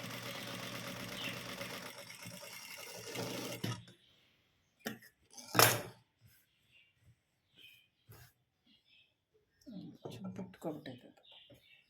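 A sewing machine stitches the front star neck of a blouse with lace trim, running in a dense steady burst for the first few seconds and then stopping, followed by short scattered clicks and handling noises with speech between them.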